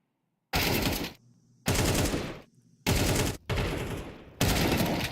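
Loud bursts of automatic gunfire from the video game Counter-Strike 2 during a playoff esports match, five dense volleys separated by short gaps with quieter ringing between them, including a headshot.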